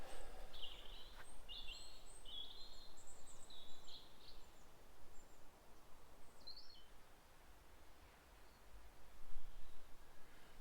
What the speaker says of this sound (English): The noise of the birds this morning is just unbelievable.